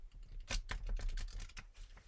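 A deck of playing cards is shuffled by hand, giving quick rippling flutters of cards riffling and snapping together, soft and close, in short bursts with no voices.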